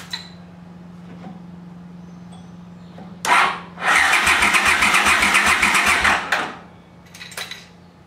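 A Honda CX500 motorcycle engine cranks over on a jumper battery, a loud rhythmic chugging burst lasting a few seconds after a short starter whir, set against a faint background hum and brief clicks.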